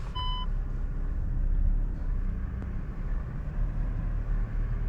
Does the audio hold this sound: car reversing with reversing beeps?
yes